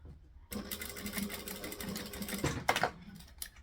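A sewing machine stitches fabric in a fast, steady mechanical whirr that starts abruptly, runs for about two seconds, then breaks into a couple of shorter bursts. It is close and clear, with no talk.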